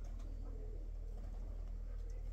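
Pigeons cooing outdoors in a yard on a dry morning, a low steady murmur of coos running continuously under faint background noise.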